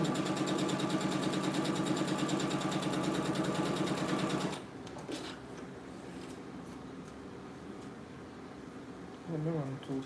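A sewing machine runs steadily, stitching easing threads into the top of a blouse sleeve, a fast even mechanical chatter for several seconds before stopping abruptly, leaving quiet room noise and faint handling sounds.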